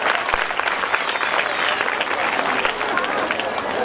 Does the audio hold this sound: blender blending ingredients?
no